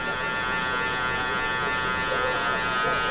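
Electric hair clippers with the blade fully open hum steadily at close range while a barber blends a low taper fade, a constant buzzing drone throughout.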